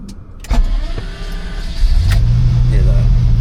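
Michael Schumacher's Bugatti EB110 Supersport engine idles close by, a deep rumbling purr that swells into a steady, heavier drone after a brief whir and clicks.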